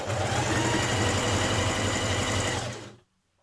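A sewing machine stitching a jersey dress seam runs in a fast, steady mechanical whir close to the microphone for about three seconds, then stops abruptly into quiet.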